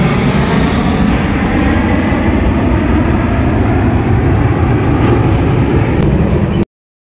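Jet aircraft at an air show over Prayagraj, flying out from the Bamrauli airfield, make a loud, steady broadband roar that holds for about six seconds, then cuts off abruptly.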